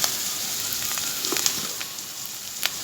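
Ground cumin, coriander and chilli paste with turmeric and salt fries in a pan, a close continuous sizzle with a few faint stirring clicks.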